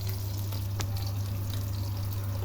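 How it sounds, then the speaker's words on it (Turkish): Fish sizzles in a frying pan with a steady close crackle over a constant low hum, with no talking. "ben de balık kızartıyorum arkadaşlar"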